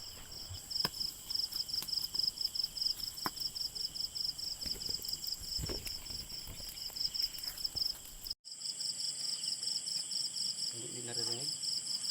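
Steady high-pitched cricket chirping fills the night air in a continuous pulsing rhythm, with a soft low owl call briefly rising near the end.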